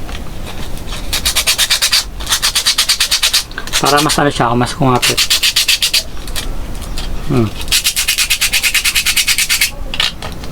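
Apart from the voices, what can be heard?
sanding shoe sole with sandpaper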